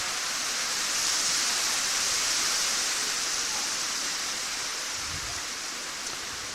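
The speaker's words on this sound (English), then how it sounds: "it's probably going to stop raining any minute here" Rain falling on a ballpark during an American Legion baseball game, a steady loud hiss of broadband noise throughout with no voices.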